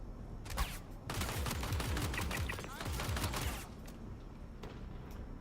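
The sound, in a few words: gunfire shooting at the player in a video game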